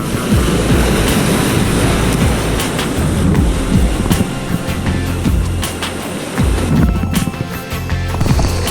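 Sea waves break and wash over shallow rocks along the shore, a continuous loud rushing surf with repeated crashes and hiss, mixed with wind buffeting the microphone, and nobody speaks.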